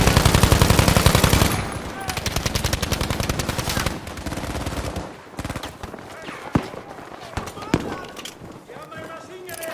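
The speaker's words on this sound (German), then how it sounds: "Wir haben ein Maschinengewehr!" Machine gun fire in a first-person shooter video game, loud rapid continuous bursts that thin into scattered single shots and distant booms, with shouted voices in the mix.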